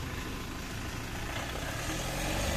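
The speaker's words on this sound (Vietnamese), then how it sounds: "máy rất là êm nhá" A 2016 Mazda BT-50 pickup truck engine idles steadily with a low, even hum, close by, rising slightly toward the end.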